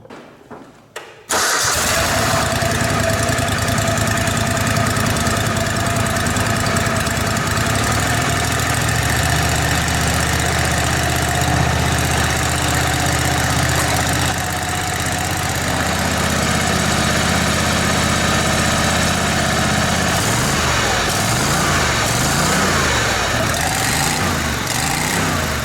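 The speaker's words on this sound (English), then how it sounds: "I'll crank the mower up and I'll stick this up here and let you hear the sound difference" A lawn mower engine cranks, catches after a brief start and then runs continuously at a steady, loud roar through a homemade muffler, with slight changes in pitch near the end.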